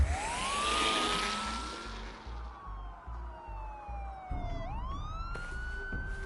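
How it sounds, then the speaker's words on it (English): Police car sirens wail and sweep up and down in the Batman Telltale video game as several cruisers converge, the wailing loud and layered over a low rumble, with no speech. "There are quite a few police cars convening on your location."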